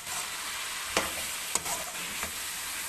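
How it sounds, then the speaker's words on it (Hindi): Vegetables and chicken being sautéed in a pan for macaroni, a steady broadband sizzle with a few sharp scraping stirs of the spoon, close and continuous, no voices. "इन दोनों चीज़ों को अच्छे से भून लेंगे।"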